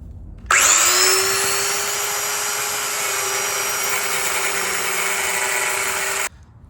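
A power tool grinds off the seized bolt head on a Volkswagen Jetta subframe mount, starting abruptly as a loud, steady high-pitched whine with a harsh metallic edge, holding for about six seconds before cutting off, close up with no talking.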